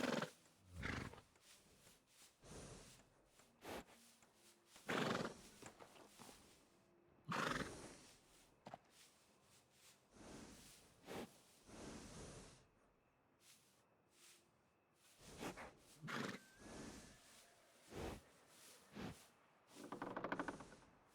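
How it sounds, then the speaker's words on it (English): A horse neighs and whinnies several times in the Red Dead video game, over hoof clip-clops and game ambience, with loud, drawn-out calls repeating across the stretch at close range. "Qual vai ser o nome do meu cavalo"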